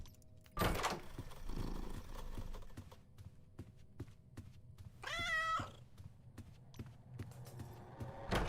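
A cat gives a single clear, rising meow in a quiet room, close and moderately loud, following a sharp thump and some jangling keys earlier; faint background hum throughout with no talking.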